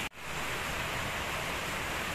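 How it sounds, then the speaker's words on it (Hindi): Heavy continuous rain pouring down outside, a loud, dense, unbroken roar that starts after a brief dropout and carries on steadily with no voices. "तो बारिश अभी भी हो रही है तेज, रुकी नहीं रही है, सतत।"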